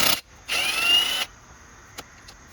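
Two quick bursts of a hand ratchet clicking as bolts come off a Nissan fuel rail beside the injectors, followed by a faint tap, with no talk.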